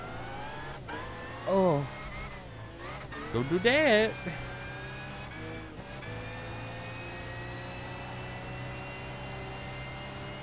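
A steady, droning race car engine from Gran Turismo 5 runs through the whole stretch of a Dreamcar Championship race, holding a constant pitch, while someone briefly speaks over it.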